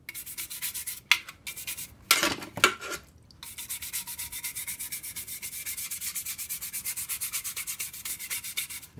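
Rust is brushed off a motorcycle part soaked overnight in citric acid, with rhythmic close scrubbing strokes, a few louder scrapes and brief pauses, then a steady back-and-forth rasping.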